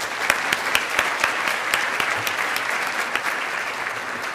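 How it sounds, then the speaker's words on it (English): Conference audience at a food safety education session applauds its sponsors, a steady wash of many hands clapping at moderate level with a few sharper individual claps standing out, no talking. "So please join me in a round of applause to thank these sponsors."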